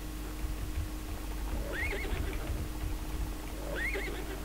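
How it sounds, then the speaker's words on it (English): A horse in the World of Cubes video game whinnies twice, about two seconds apart, each call a short rising-and-falling neigh over a low steady hum. "look, there's a horse here."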